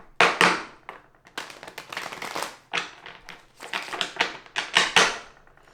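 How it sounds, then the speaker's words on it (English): Tarot cards being shuffled close by during a reading, a run of dry, crisp riffling bursts and papery slaps in irregular clusters, with no one speaking. "I'm going to ask the tarot here to, I think I can shuffle these."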